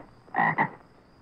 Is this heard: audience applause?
no